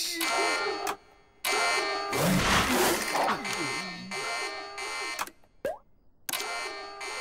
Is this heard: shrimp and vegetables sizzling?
no